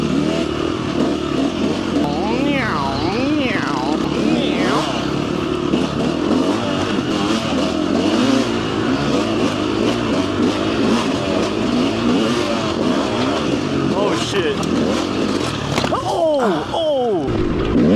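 A motorcycle bounces along a rough off-road trail at the Croom Motorcycle Area in Florida, its engine revving and rising and falling in pitch over constant rattling and thumping, close and loud throughout.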